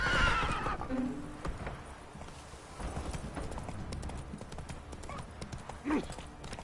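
A horse in a video game neighs loudly at the start and again near the end, between stretches of fast hoofbeats.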